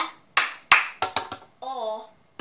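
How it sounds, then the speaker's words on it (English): Sharp taps of a cup against a table for the cup song, a run of quick knocks in rhythm followed by a brief vocal sound and one more tap, close and crisp. "you can either tap the top of the cup three times, or the table, or whatever surface you're doing it on."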